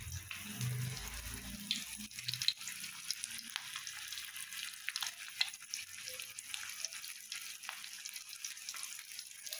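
Surmai fish slices coated in rice flour with fish fry masala, salt and turmeric, frying in a pan, a faint, even hiss of oil throughout, with a few soft taps and no voices.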